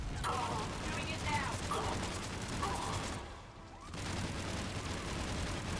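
Rapid, sustained Lancer rifle fire from Mass Effect 3 Legendary Edition, a dense mechanical chatter running almost continuously. It breaks off briefly near the middle, then resumes with game effects layered around it.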